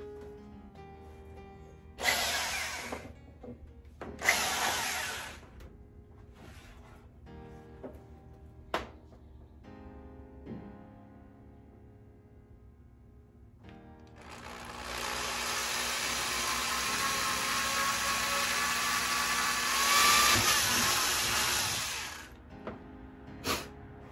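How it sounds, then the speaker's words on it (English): A drill bores into a fiberglass Hemi hood scoop on a 1965 Dodge Dart. Brief whining bursts come first, then a long steady high drilling run, close and loud, with no talk. "fiberglass is gonna do when I start drilling into it"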